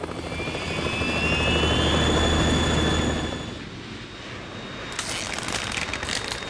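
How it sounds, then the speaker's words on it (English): A Harrier jet in the Metal Gear Solid video game roars loudly and steadily, swelling and then easing, with a high whining tone on top and a burst of crackling effects near the end. "We're in trouble. It's the Harrier."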